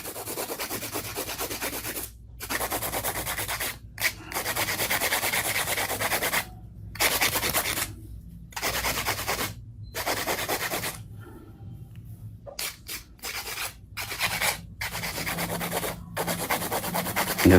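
Repeated rasping strokes of a hand file on fingernails in bursts, rubbing steadily with short pauses between sets, close and fairly quiet.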